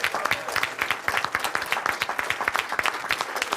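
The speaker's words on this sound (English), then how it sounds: "So give yourselves a round of applause, everyone." An audience applauds steadily, with dense overlapping claps that hold an even level throughout and no voices on top.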